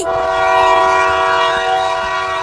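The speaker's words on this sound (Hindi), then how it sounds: "जल्दी जल्दी दौड़ो, ट्रेन चलने वाली है, वो सीटी मार रही है।" A cartoon train's whistle sounds loud and sustained at a station before departure, a steady multi-tone horn blast with faint rolling rail noise beneath, no talk.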